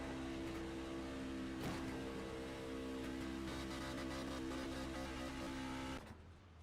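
A race car at an HPRL River City 250 racing event holds a steady, loud engine note at constant revs with the throttle stuck open, droning evenly for about six seconds before the tone drops away at the end.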